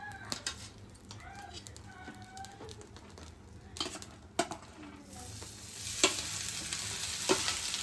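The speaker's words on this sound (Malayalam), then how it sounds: "ഇച്ചിരി കടു മാത്രം പൊട്ടിച്ച് തോരനാക്കി എടുക്കാം." Mustard seeds spluttering in hot coconut oil for a Kerala thoran, a steady close sizzle with scattered sharp pops that grows louder and brighter toward the end, and no talking.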